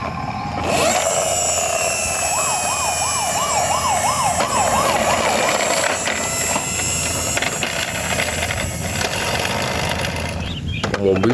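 Police car siren from a toy or model rescue vehicle, a loud wailing up-and-down tone that rises then cycles steadily, with mechanical clicking and background noise continuing after it.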